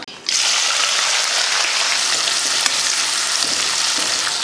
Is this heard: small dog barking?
no